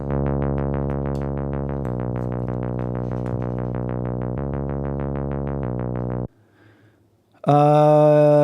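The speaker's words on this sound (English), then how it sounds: "It's a fingered saw bass sound." A buzzy fingered sawtooth synth bass repeats steady pulsing notes for several seconds, then falls briefly quiet before a brighter tone swells in.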